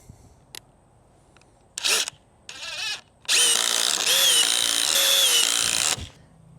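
A new DeWalt impact driver at speed setting 3 sends a few short bursts, then hammers a fastener home in one loud, close, sustained run with a whining mechanical pitch that stops abruptly.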